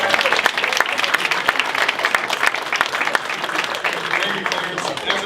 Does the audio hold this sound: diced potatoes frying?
no